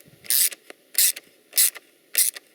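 Ratchet cranking down a plastic irrigation fitting, four short, loud buzzing bursts of clicking pawl at an even pace, close up and alone.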